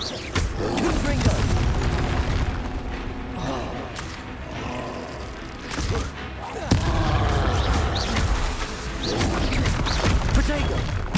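Confringo blasting spells being cast in Hogwarts Legacy: loud, dense bursts and booms of magical combat layered over a steady game soundtrack, with repeated impacts and crashes throughout.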